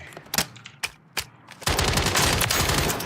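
The Schlesinger 3.4 fires in a video game, first as several separate sharp shots, then as a loud sustained burst of rapid automatic fire, close and with no talking.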